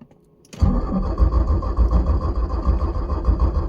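Porsche 944 engine cranking and catching after the key is turned with the clutch in, then running at a loud, steady, rumbling idle close by.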